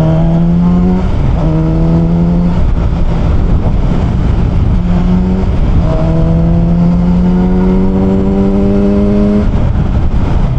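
Kove 450RR inline-four motorcycle engine revved repeatedly, loud and close, with rising and falling whines across several blips, no talk.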